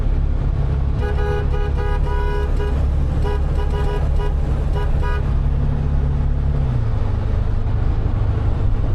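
A car horn honks inside a road tunnel, a steady blaring tone held for several seconds over the loud, booming rumble of traffic echoing off the walls.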